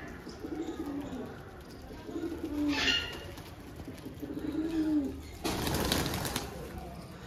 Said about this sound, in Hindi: जंगली कबूतर भी आ गया एक,